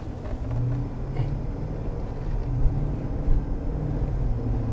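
GMC Yukon AT4 with the 6.2-litre engine driving on a road loop, heard from inside as a steady low engine drone and road rumble, with no talking.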